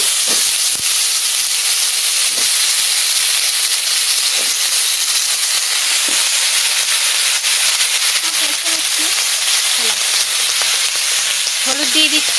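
Vegetables fry in a hot cooking pan with a loud, continuous sizzle and hiss, and a few soft clinks of stirring.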